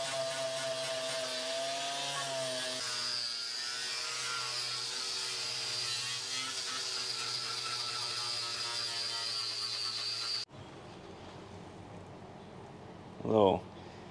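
Rust being ground off the body of a bagged mini truck, the grinder whining steadily and fairly loud for about ten seconds before stopping, then a quieter stretch with a brief clunk near the end.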